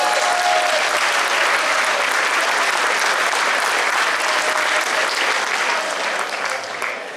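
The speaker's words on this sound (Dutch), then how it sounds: "En daarvoor wil ik graag een applaus" Sustained, loud applause from a carnival revue audience in Geleen, honoring a new city prince, with dense clapping steady throughout before easing slightly at the very end.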